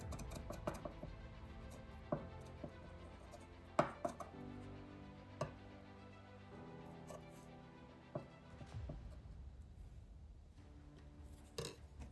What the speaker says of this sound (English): I used a sharp knife to mark out eye holes in my mask biscuits